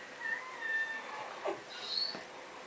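A house cat meows a couple of times, moderately close and fairly soft, in a quiet room where a Kai Ken dog is also present.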